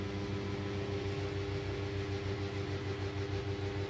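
Electric kitchen grinder running steadily as it blends pepper, cumin and ginger into a spice paste, a constant close motor hum with no pauses or voices.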